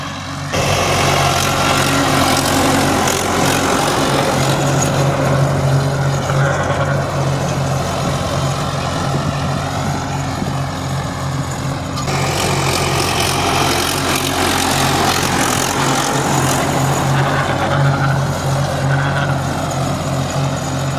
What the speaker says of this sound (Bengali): ওই যে ছেলেটা ট্রাক্টর চালাচ্ছে সেই আসবে চাষ করার জন্য